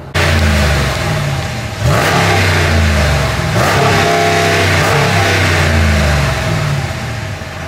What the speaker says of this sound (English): we have the Turbo XL that I'll be putting on my Dodge Ram 1500 Bighorn